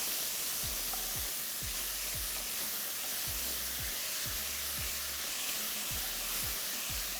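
Chicken hotpot sizzles steadily in a pot as Dijon mustard is stirred in, a dense continuous frying hiss with occasional low knocks of the spoon against the pot.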